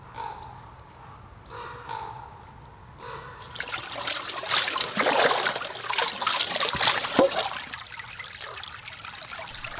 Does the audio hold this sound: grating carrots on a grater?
no